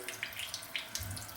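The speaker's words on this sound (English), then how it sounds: "just putting a few drops of water" Water drips and splashes into a bowl of stiff shaving soap lather, a few short bright patters and small trickles close up, with a brief low thump near the end.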